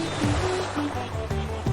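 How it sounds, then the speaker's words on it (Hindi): Gentle sea waves wash onto a sandy beach at Thalikulam in Thrissur district, Kerala, a steady soft surf rumble filling the short stretch without any clear voices. "शांत लहरों की आवाज़, नर्म रेत और हल्की ठंडी हवा"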